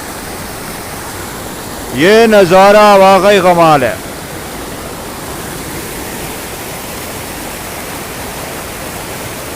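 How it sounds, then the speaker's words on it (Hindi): A fast-flowing river rushes in a loud, constant roar, near a bridge along a motorcycle trip through scenic countryside. Someone speaks briefly over the steady wash of water. "दोस्तों पानी की आवाज़ बहुत तेज़ है"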